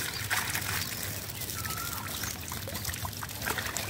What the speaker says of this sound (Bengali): মাছগুলো আর কি ঢেলে নেওয়া হচ্ছে।